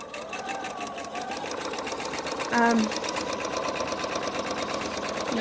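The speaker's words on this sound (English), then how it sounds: "So we'll go ahead and get this in my machine. And just kind of go at it. It's just a straight stitch." A sewing machine runs a steady straight stitch along the edge of fabric, its fast, even needle rhythm continuing throughout with a brief higher tone near the middle.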